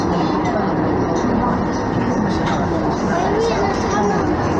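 A Docklands Light Railway train in London rumbles and whirs steadily from inside the carriage, a constant loud mechanical drone with traction whine and muffled background voices.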